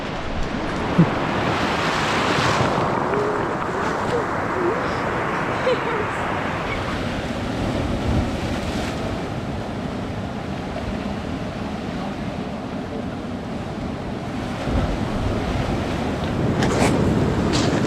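Ocean surf breaking on a beach in Olympic National Park, a broad continuous roar of waves mixed with heavy wind buffeting the microphone, with louder swells near the start and end.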